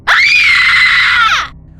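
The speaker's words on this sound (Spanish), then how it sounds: "Un grito ahogado escapó de Sara." A single loud, sustained scream rings out for over a second in a horror story about a Ouija board, rising sharply, holding, then falling away into quiet.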